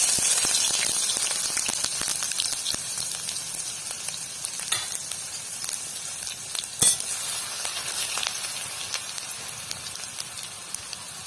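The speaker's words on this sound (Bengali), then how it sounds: "এবার রসুন বাটাটা দিয়ে দেব।" Garlic paste frying in hot oil in a Bengali village kitchen, giving a loud, continuous sizzle with crackling pops and occasional sharp spits that fade slightly over time.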